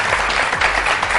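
Audience applause at a live stage event honoring a Pakistani actress and dubbing artist: dense, continuous clapping that stays steady through the brief moment.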